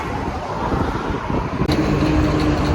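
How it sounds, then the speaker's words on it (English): Highway traffic roars past a roadside bus stop on a hot day near Karnala in India. The wash of passing vehicles is steady and close, buffeted by wind, with no one speaking. "So this is the highway here."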